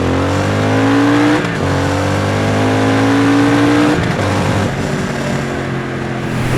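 A 2023 Triumph Speed Twin 1200 motorcycle engine revs hard and close, pitch climbing through the gears in long rising sweeps with brief drops at each shift, loud and steady with no talking.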